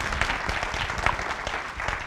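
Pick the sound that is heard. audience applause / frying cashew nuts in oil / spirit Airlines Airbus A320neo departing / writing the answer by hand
audience applause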